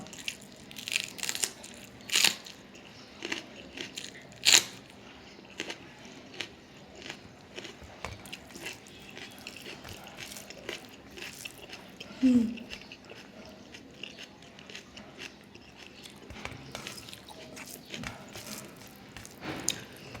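Crunchy bites and chewing on a viral French chili pepper, sharp crisp snaps standing out at intervals over soft mouth noises, close and fairly quiet.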